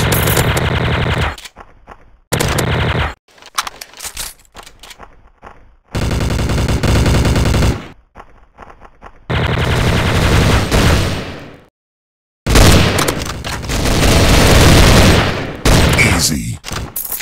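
Rapid submachine-gun bursts from a TMP in the Special Ops shooter game at Deluxe Fest, loud and close, firing in repeated sustained volleys separated by short silent gaps.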